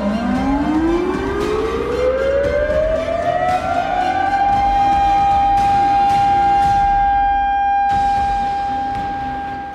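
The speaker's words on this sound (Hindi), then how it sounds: "हर 6 सेकंड बाद 6 सेकंड तक सायरन की आवाज गूंजेगी।" A civil defense air raid siren winds up from a low growl to a sustained loud wail, holding a steady tone for several seconds before fading slightly at the end, with no speech.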